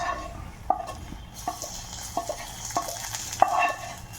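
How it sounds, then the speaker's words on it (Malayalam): A tempering is added to a Palakkad-style horse gram curry (muthira puli), making a low, steady sizzle punctuated by several sharp spoon clinks at irregular intervals. "ഇതിലേക്ക് താളിച്ചു കൂട്ടാം."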